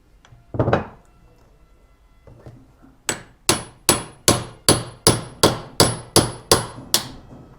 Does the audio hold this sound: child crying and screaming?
no